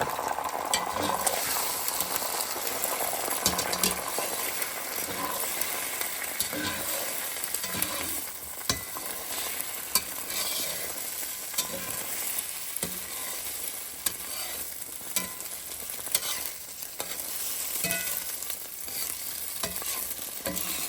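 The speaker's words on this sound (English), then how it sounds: "if you want to make really good scrambled eggs without it sticking to your cast iron, you need a nice layer of oil" Scrambled eggs frying in a layer of hot oil in a cast iron pan give a steady, close sizzle and bubbling, with scattered light scrapes and clicks from stirring throughout.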